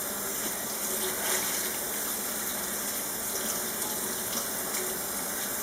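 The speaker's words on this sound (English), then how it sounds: "now you rinse out the vinegar." A steady stream of tap water gushes continuously into a sink to rinse vinegar out of hand-dyed cross-stitch fabric, with a close, even rushing sound and no pauses.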